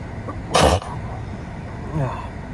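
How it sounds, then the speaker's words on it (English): One sharp, loud sneeze bursts out close up during a beehive feeding outdoors, followed by quiet background and a brief murmur of a voice. "Gotta sneeze."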